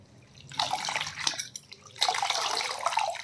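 Amaranth leaves rinsed under running water: two close bursts of splashing, gushing water with drips between them, loud in the middle and sharply separated by a short quieter pause.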